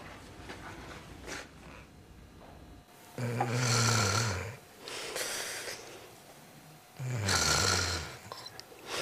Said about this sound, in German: Wach auf, du schnarchst schon wieder.